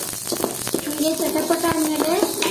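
Mustard seeds crackle in a hot pan alongside roasted fenugreek while sambar powder is made, giving irregular sharp pops and a light sizzle that run beneath a talking voice.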